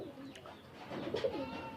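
Pigeons in a rooftop loft give a brief, soft run of throaty coos, close but fairly quiet, with the calls rising slightly toward the end.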